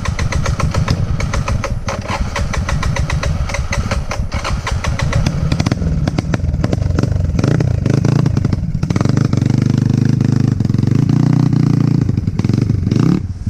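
Motorcycle engine cranks and fires up, then settles into a loud, steady idle with rough clattering rhythm, close by and continuous throughout.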